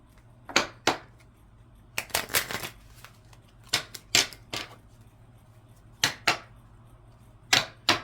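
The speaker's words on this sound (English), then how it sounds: "I just continue to shuffle these cards until something screams out" Tarot cards being shuffled in quick crisp bursts, several riffles spaced apart with short pauses, close and fairly quiet, no talking.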